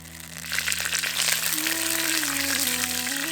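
Curry leaves hitting hot oil with cumin seeds in a pan give a loud, steady, dense sizzle and crackle. A faint tonal hum runs underneath.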